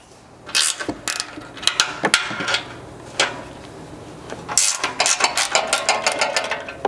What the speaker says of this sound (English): You've got 2 up top per side that you're going to have to get with a wrench